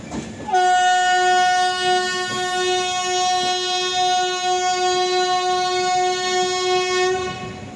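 A long, loud train horn blares from close by as an Anand Vihar–Santragachi Express pulls into Deen Dayal Upadhyaya Junction, sounding steadily for about seven seconds over the low rumble of the moving carriages.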